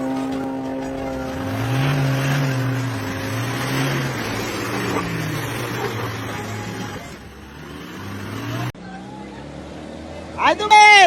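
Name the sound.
car accelerating on a muddy rural road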